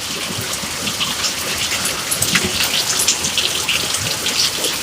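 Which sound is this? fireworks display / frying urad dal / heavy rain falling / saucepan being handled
heavy rain falling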